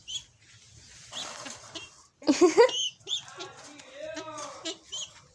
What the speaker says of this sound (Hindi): कबूतर की आवाज़ें सुने